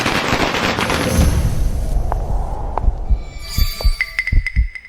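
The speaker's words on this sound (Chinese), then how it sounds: "我放个鞭炮，给大家冲冲喜" Firecrackers go off in a rural village, with a loud rumbling burst followed by a string of sharp, separate bangs and pops close by.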